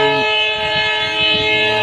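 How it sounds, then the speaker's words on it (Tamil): A loud, sustained train horn blares with steady layered tones over rumbling rail noise as the first rehearsal train crosses the new Pamban rail bridge. "ரிஹர்சலில் ஃபஸ்ட்டு ட்ரெயின் பாம்பன் பிரிட்ஜை கிராஸ் பண்ணுது"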